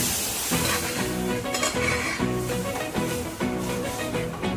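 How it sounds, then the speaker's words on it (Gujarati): Dal tempering sizzles loudly in a hot pan on a home stove while a spoon stirs it, with rhythmic scraping strokes over constant frying hiss. "જો આ દાળનો વઘાર ના"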